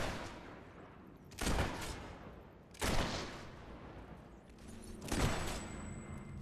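Three spaced gunshots from the video game Fable 3, fired at barrels, each a sharp broadband crack with a short decaying tail over a steady background.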